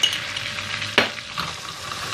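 Melted butter with a tablespoon of dried mint sizzles steadily in a pan as a spoon stirs through it, with one sharp scrape of metal partway through.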